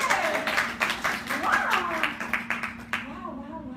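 A classroom of French-language students claps, a dense run of close hand claps mixed with voices talking and cheering over it.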